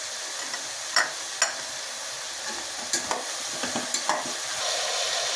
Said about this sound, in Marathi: फ्लावर बटाटा गाजर मटर आणि बीट ह्या सगळ्या गोष्टी व्यवस्थितपणे आपण तेलामध्ये फ्राय करून घेऊया